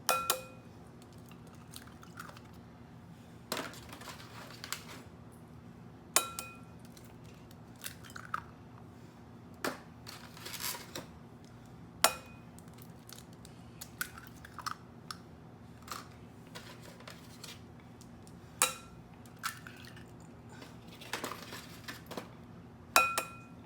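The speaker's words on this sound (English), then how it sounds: "First, I'm going to add in 5 large eggs." Five large eggs are cracked into sweet potato buttermilk pound cake batter in a bowl, with sharp, scattered clicks and taps of shell against the bowl spaced irregularly over a quiet kitchen background.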